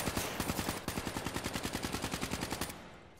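Rapid automatic gunfire in a hardcore-mode online shooter, a steady close burst of evenly spaced loud shots that stops abruptly and leaves a short fading tail, no talk.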